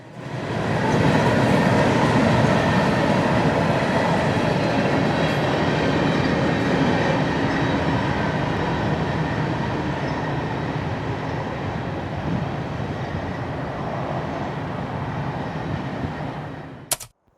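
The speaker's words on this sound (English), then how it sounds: "The back half of M603, at least 100 cars worth, was entirely empty phosphate hoppers returning to the Bone Valley" A long freight train of empty phosphate hopper cars rolls steadily past at close range, a loud continuous rumble with rail clatter that stays strong throughout before cutting off abruptly.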